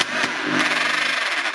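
A faulty Makita hammer drill runs loud and continuous, a buzzing, rattly motor whine that holds steady for the whole stretch with no voices over it.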